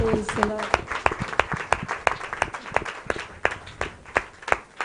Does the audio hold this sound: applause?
yes